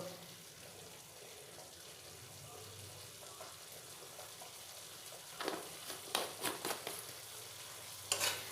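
Tomato and Kashmiri chili powder sautéed for vegetarian khichuri, a soft low sizzle with a run of stirring scrapes and clinks near the end, faint and close, no voices.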